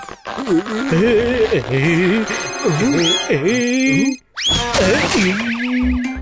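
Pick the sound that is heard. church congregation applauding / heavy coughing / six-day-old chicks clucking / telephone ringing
telephone ringing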